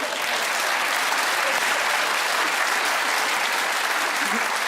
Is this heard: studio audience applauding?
yes